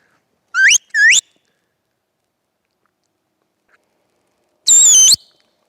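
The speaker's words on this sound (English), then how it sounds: "So that's her stop whistle." Two short rising whistles in quick succession, then a pause and a longer, warbling whistle from a shepherd giving a sheepdog its stop command on a farm; sharp, loud, and isolated against near silence.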